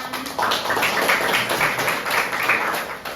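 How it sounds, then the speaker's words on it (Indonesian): A classroom of students claps together in steady, dense applause lasting a few seconds, moderately loud and fairly close. "Tepuk tangan."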